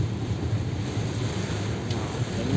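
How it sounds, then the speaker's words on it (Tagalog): Strong typhoon wind with heavy rain roars in a constant, rushing wash, buffeting the microphone with no break and no talk. "sobrang lakas ng hangin, sobrang lakas pa ng buhos ng ulan"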